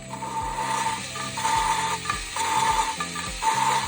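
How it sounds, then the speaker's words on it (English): Power drill spinning a valve-lapping tool against an exhaust valve in a Volkswagen Corrado cylinder head, a steady mechanical whir with repeated grinding, ratcheting pulses roughly every half second, close and alone. "attached to the drill, I'm able to spin."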